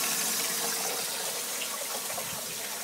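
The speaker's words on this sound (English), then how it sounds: "you can see the water pours down the pipe" Water pouring and tumbling down the pipe of an aquaponics vortex aerator, a steady close rushing gush with no talk over it.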